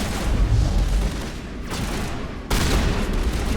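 Sustained, loud gunfire in Mass Effect, a dense fusillade of shots and booms that runs with hardly a pause and ends in a sharp burst.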